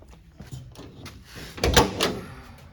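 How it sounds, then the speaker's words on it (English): The side door of a Chevy van is opened, a few soft metallic clicks and rattles building to a louder thunk and rolling slide, close by in a workshop. "Open this side door and show you."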